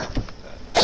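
A single sharp cough close into a headset microphone during a Fortnite session on PS4, brief and loud with a burst of noise at the end.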